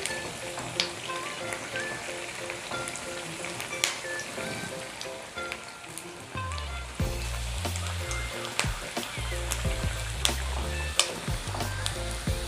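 Sabudana vada deep-frying in oil on a medium flame, a steady crackling sizzle throughout with small pops and clinks, a lower rumbling bed joining midway, no voices.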